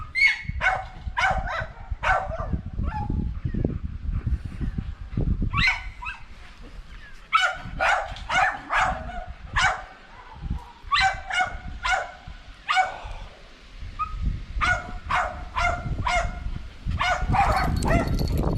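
Two small dogs barking behind a gate in rural central Sardinia, sharp high-pitched yaps in repeated bursts with short pauses, loud and fairly close, mixed with whimpers and yips.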